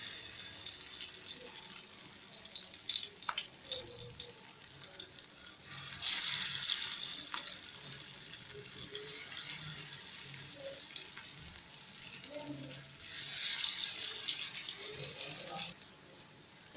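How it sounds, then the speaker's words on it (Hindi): Shami kebabs shallow frying in hot oil give a steady, moderately quiet crackling hiss that runs throughout, swelling louder twice in brief bursts, with no talking. "ऑयल हमारा गर्म हो गया है। अब हम इसमें कबाब डालेंगे।"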